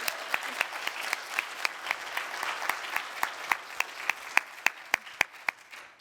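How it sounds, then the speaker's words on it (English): A conference audience at a women-in-fixed-income event gives a round of applause, dense clapping that thins toward the end into a handful of sharp, distinct claps. "If we could just pause and just sort of give you a round of applause."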